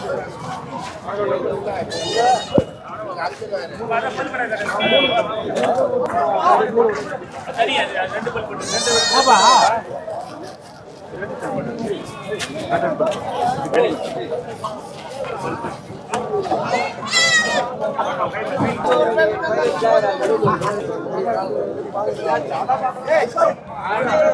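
Goats bleat repeatedly at the crowded Ranipet goat market in Tamil Nadu, several loud calls standing out over steady crowd chatter, with people talking close by throughout.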